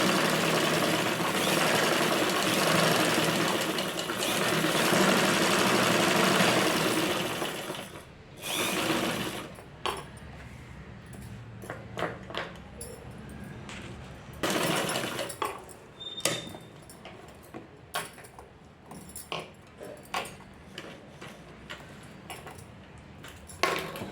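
A sewing machine stitches the lining of a blouse, running loud and steady for about eight seconds, then continuing in short bursts and pauses with light handling sounds between runs.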